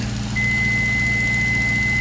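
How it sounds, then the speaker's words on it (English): A single steady electronic autopilot-disengage beep sounds continuously over a low engine-like drone in a Piper Pacer in a flight simulator, with no one speaking. "you hear that beep, and you know the autopilot's off"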